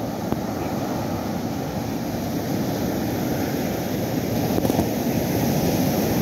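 Ocean surf at Jeongdongjin beach on Korea's east coast, a steady broadband wash of waves with wind rumbling across the microphone, continuous and fairly loud with no voices.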